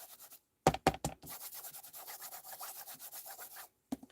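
An embossing buddy is rubbed over card in quick repeated strokes, a close dry scuffing with a few sharp taps at the start and one after a pause at the end.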